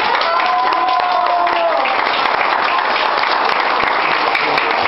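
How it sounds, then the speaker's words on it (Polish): Sustained audience applause at a wedding reception as the bride and groom are called up for their first dance, dense and loud throughout, with tonal traces of voices or music faintly underneath. "wielkie brawa dla nich"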